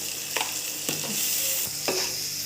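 Ginger and garlic stir-fried with chili powder and masala in a pan: a steady bright sizzle with a few sharp scraping strokes of a spatula, close and without talk.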